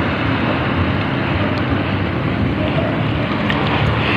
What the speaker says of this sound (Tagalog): May alon kasi kaya medyo mahirap.